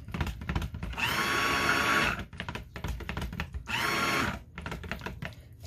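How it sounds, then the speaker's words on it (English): A stick blender mixes a batch of soap scented with a Bescented fragrance oil, running in two steady buzzing bursts of about a second each, loud and close, with quieter handling noise between and after. "I'm going to hit it with a stick blender"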